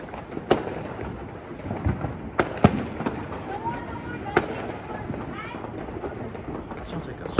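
Fireworks explode on New Year's Eve 2021, a scatter of loud, cracking bangs and booms with rumbling echoes. Voices talk faintly in between.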